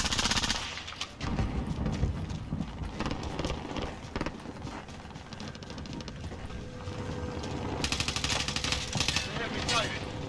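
Gunfire in Call of Duty Warzone: dense bursts of rapid automatic shots and scattered single cracks throughout, fairly close and busy, mixed with game noise and a player talking over it.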